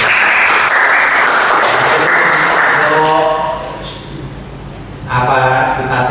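An audience claps loudly and steadily at an Indonesian talk show, dense applause that dips briefly midway and then swells again, with tonal music sounding under the clapping.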